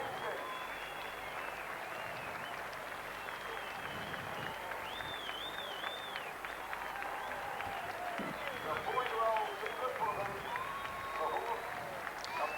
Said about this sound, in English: listen to the roar that this crowd will give Our Maestro